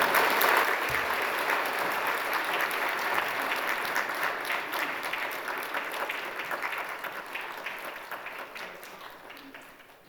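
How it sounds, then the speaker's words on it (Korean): A church congregation at a Sunday worship service gives a warm, steady round of applause to welcome the singers. The clapping is dense and close and slowly fades toward the end. "우리 나오실 때 큰 박수로 환영하겠습니다"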